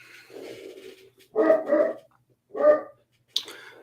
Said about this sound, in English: Oh, there's David's dog